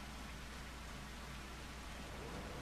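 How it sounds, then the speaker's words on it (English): Steady rainfall in the farming video game Farming Simulator 25, a soft continuous hiss of rain with no distinct drops or thunder, faint and even for the whole moment. "Don't you rain on me."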